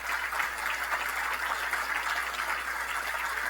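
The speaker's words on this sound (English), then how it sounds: "let's give him a round of applause" Applause from a conference audience of county leaders, a steady, even wash of clapping heard at a distance and held at one level throughout, with no voices over it.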